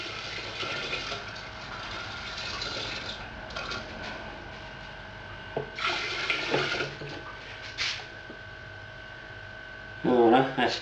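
Tap water pours into a brewing fermenter while a hard seltzer batch is being mixed, a steady running stream lasting throughout, close by, with someone talking over it.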